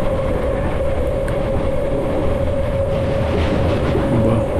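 A Vijayawada–Guntur passenger train rumbles steadily along the tracks, close and loud, with a sustained mechanical hum and faint rail squeals near the end.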